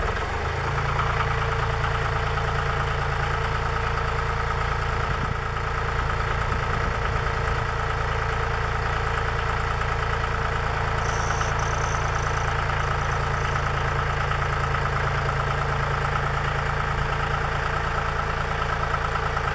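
A tractor engine idles steadily and close by on a farm site where a fabric storage building cover is being installed, a low constant rumble with a faint brief whine partway through and no talk.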